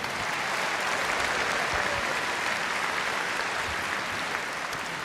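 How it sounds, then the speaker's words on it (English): A conference audience in Birmingham gives a sustained round of applause, dense steady clapping filling the room at even loudness from start to finish with no voices over it. "please give a round of applause to everyone who is working so hard in Scotland, in Wales, and across the United Kingdom"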